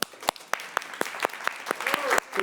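A theatre audience applauds at a show, a spirited run of sharp, fairly regular claps with a full-room feel that grows slightly denser near the end, while a voice speaks faintly underneath.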